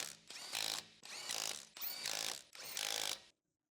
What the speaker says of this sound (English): With the large electric impact wrench, tighten the wheel hub lug nuts.